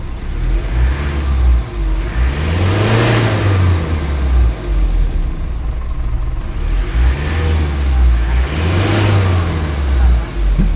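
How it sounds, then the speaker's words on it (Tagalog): A Mitsubishi 4P10 car engine, one prone to sudden RPM drops and stalling, revs up and falls back twice, rising pitch swells separated by steady idling, close and loud, with faint voices in the background. "i rev natin ang makina at observe po tayo"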